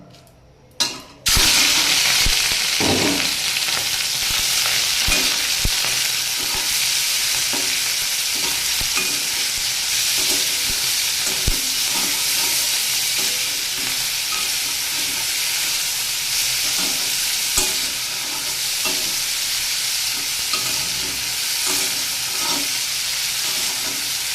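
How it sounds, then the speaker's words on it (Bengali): Turmeric- and salt-coated prawns drop into hot oil with a sudden loud sizzle, then fry in a steady, dense hiss that continues for over twenty seconds with occasional stirring clinks and pops. "এবারে আমি চিংড়ি মাছটা ভেজে নেব"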